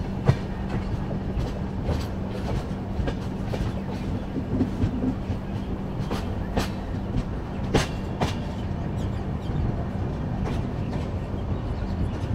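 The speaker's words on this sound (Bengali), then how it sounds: "ট্রেনটা লেট করতে করতে মোটামুটি এখন 40-45 মিনিটের একটা লেট টাইম নিয়ে পুরীর দিকে এগোচ্ছে ট্রেন।" Interior of the Sealdah–Puri Duronto Express, an AC train running late toward Puri, with a steady loud rumble, a low hum and repeated clicks and clatter from the wheels on rail joints throughout.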